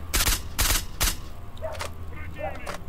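Gunfire in the shooter game STALKER: three loud, sharp shots in quick succession, followed by quieter scattered distant pops and faint voices.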